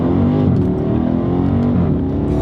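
A car pulls hard in first gear, its loud engine note climbing steadily with rising harmonics through the whole stretch, close and continuous with no voices over it.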